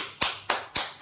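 People clap in three sharp, evenly spaced strokes in quick succession, close and distinct.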